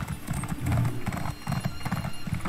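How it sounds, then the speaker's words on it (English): Horse hooves clip-clopping at a steady trot in the Elder Scrolls Online game, close and continuous, with a whinny rising over the rhythmic footfalls. "I can't take a horse into a temple"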